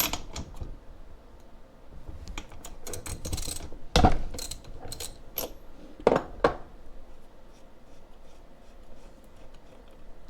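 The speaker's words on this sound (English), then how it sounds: "for this spark plug, we're going to be taking a 3/4 inch socket to remove it" Ratchet and 3/4 inch socket loosening the spark plug on a Craftsman 16-inch chainsaw, giving close, irregular metallic clicks and scrapes with a few sharper clanks, with no talking.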